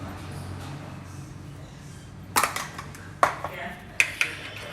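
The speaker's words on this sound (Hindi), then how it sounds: "ये जो हमारा देसी घी है उसमें हमें थोड़ा सा शुगर पाउडर डालना है" A spoon clinks sharply against a dish several times while powdered sugar is mixed into desi ghee, the metallic taps arriving in a few distinct strikes over low background noise.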